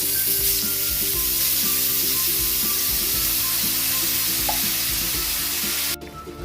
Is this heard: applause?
no